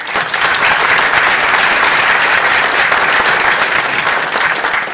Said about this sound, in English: So let's give Dean Purnell a round of applause.